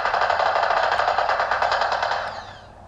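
Rapid automatic gunfire in an online shooter video game, a loud, close, fast-repeating burst of shots lasting a couple of seconds before trailing off.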